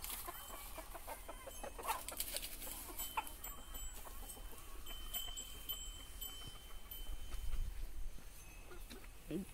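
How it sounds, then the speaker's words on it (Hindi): Hens clucking across a farm field, a scattered, fairly faint series of short calls against steady outdoor background, with one brief louder low burst near the end. "देखा ना आपने हमारा खेत का नज़ारा, हमारे खेत के मुर्गियाँ।"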